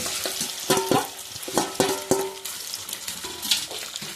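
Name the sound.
raw banana chips frying in oil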